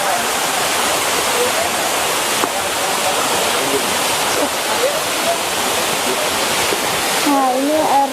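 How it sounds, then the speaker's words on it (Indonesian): Rawa Gede waterfall at Cibodas, West Java, roars as a steady loud wash of falling water, with faint voices of visitors audible beneath it. "Nah, ini air terjun Rawa Gedenya,"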